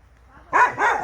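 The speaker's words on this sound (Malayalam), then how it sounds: "പട്ടിക്കൂട്ടനുണ്ട് കേട്ടോ" A dog gives two quick, sharp barks in close succession, fairly close by, after a moment of near silence.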